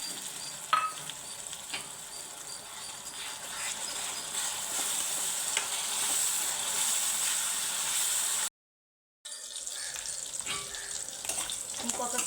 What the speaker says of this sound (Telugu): ఇప్పుడు ఇందులో టమాటా పేస్ట్ కూడా వేసేస్తున్నాను